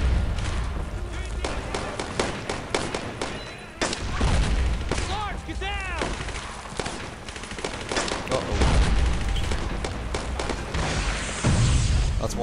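Explosions and gunfire in the World War II shooter Brothers In Arms: Road to Hill 30, a dense, continuous barrage of loud shots and booming blasts with occasional voices mixed in.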